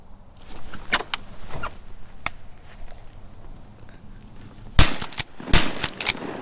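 Shotguns fired while duck hunting in heavy fog outdoors, several sharp blasts in quick bursts, one near the start and a cluster toward the end, loud and close with little talk.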